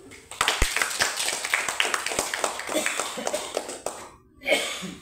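A classroom audience claps for a teacher at a school event with a quick run of close hand claps that fades after a few seconds. A voice briefly follows the claps.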